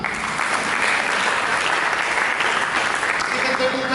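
A church congregation applauds at a Christmas sermon, a dense, steady roar of many hands clapping together at close range throughout.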